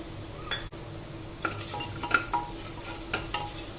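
Brown-fried onions sizzle in a pan with added whole garam masala (cardamom, cinnamon, cloves, pepper, cumin, fennel), with a soft fry under occasional spoon scrapes and taps, close but fairly quiet.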